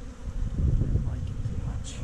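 Iberian honeybees buzz steadily in an open hive as frames are handled, a close, continuous low drone with a brief higher whine near the end.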